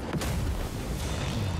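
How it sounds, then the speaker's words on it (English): An explosion spell going off in the fantasy strategy game Total War Warhammer III, a dense booming rumble with a sharp thump near the start, loud and sustained for under two seconds. "We will cast an explosion on there."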